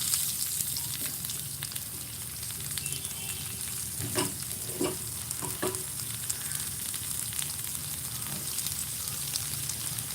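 Onions sautéing in a pan with a tinge of ginger, salted to speed cooking, giving a steady, close sizzle with a few scraping stirs partway through.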